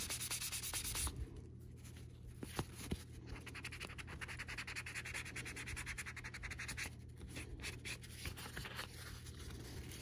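Light sanding on the painted edge of a handmade bag gives a soft, close, steady scratchy rub with brief pauses between strokes and no talking.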